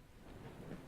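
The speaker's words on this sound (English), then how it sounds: "Still raining." Steady rain with low rolling thunder in the video game Reach for the Sun, a soft, continuous wash of rainfall under a faint distant rumble, with no voices.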